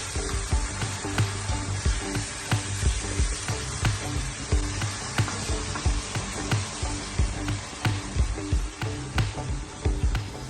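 Chilli con carne mix with crumbled veg stock and oxo cubes sizzles and fries in a pan while being stirred, a steady loud hiss broken by repeated scraping knocks of the spoon throughout.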